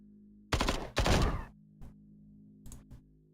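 Gunfire in the turn-based game Templar Battleforce: two loud close bursts of shots, followed by a few fainter short cracks over a quiet hum.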